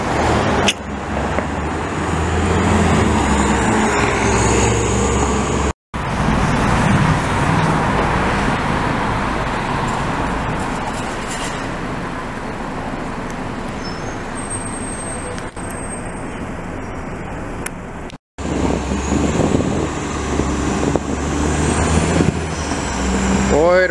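An older Montreal STM city bus with a Cummins engine accelerates hard, its broad low engine roar and road noise sustained for about twenty seconds, broken by two brief cuts, with a faint high whine near the end.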